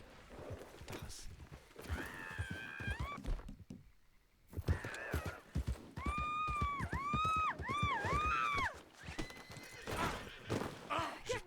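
Several loud, close horse whinnies in Red Dead Redemption, with rising and falling cries, mixed with hoof clops and thuds, broken by a brief quiet gap midway.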